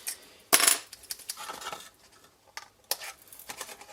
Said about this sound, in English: I'm just going to throw them straight in the bin